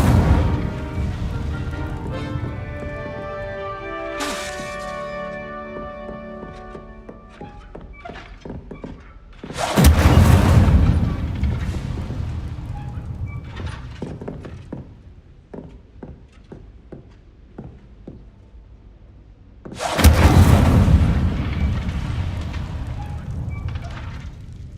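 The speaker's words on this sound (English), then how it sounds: "Incendio! Setting things ablaze is certainly cathartic, isn't it?" Incendio fire spells cast in Hogwarts Legacy, bursting into loud whooshing flame blasts around 10 and 20 seconds, separated by quieter thuds, clanks and mechanical game sounds.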